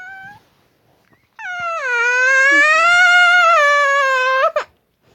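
A person imitates a baby's cry in a long, wavering, nasal wail that rises and holds steady before breaking off abruptly, preceded by a shorter whimper and followed by a brief sharp sob, loud and close.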